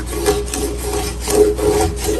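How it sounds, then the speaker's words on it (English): A utensil scraping the bottom of a pan to loosen browned bits after a splash of balsamic vinegar, making a continuous rhythmic rasping over a steady hiss, with no talk. "scraping up all the bits and pieces from the bottom of the pan"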